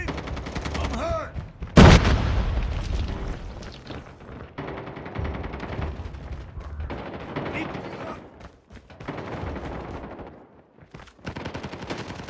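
Grenade explosion in Call of Duty Mobile, a sudden loud burst standing out amid rapid gunfire and gameplay noise, followed by a rumbling tail and continued shooting.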